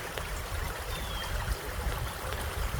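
Creek water flowing through fern-lined land in Manton, California, a steady soft rushing and trickling with gentle gurgles, close by and fairly quiet, with no voices.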